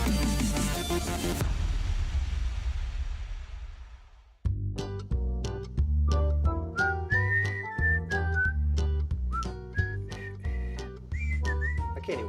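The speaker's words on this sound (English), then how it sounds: "Can't even whistle today." A person whistles a wavering tune after a burst of broadband noise, clear and close, alone with no talk.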